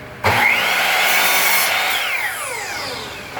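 A power saw with a laser guide trimming the bad ends off pallet wood: it starts abruptly with a loud, close, high whining cut, holds for a few seconds, then winds down with a falling pitch.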